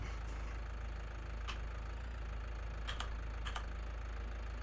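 A tractor engine idles steadily in Farming Simulator 19, a low continuous rumble with a few faint clicks and chirps over it, with no talking.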